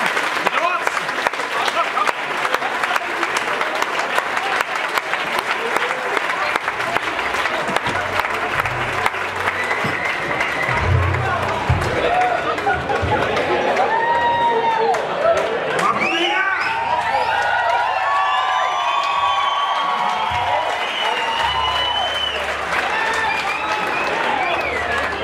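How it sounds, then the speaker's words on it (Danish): Audience clapping steadily at a live stage show, loud and sustained with scattered cheers and voices mixed in, later giving way to music and singing. "skal vi lige klappe i gang?"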